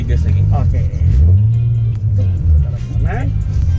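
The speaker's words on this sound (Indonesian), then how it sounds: "kita pertama butuh gas yang tinggi supaya mobil mau start drifting" A car's engine revs hard as it drifts, a loud, close, rising and falling drone, while someone talks over it throughout.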